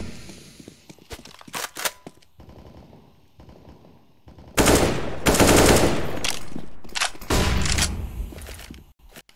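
Rapid automatic gunfire bursts and single shots from a Counter-Strike esports match on the map Cache, including wall-bang spraying through cover. Footsteps are heard in the quieter opening seconds, then a long, loud, sustained barrage follows.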